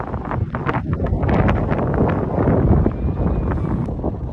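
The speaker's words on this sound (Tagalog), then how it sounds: "Lakas ng hangin." Strong wind buffets the microphone in loud, gusting roars, with some rustling underneath.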